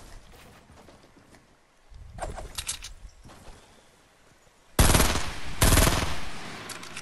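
Rapid gunfire in Fortnite Battle Royale, coming in bursts of crackling shots that start sparse and distant and grow into loud, close sustained firing in the last seconds.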